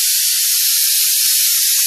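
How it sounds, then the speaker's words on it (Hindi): A pressure cooker on a home stove cooking dal vents steam in a loud, continuous high hiss that holds steady throughout, with no talking. "सीटी आने वाली है मुझे लग रहा है, सीटी कभी भी आ सकती है"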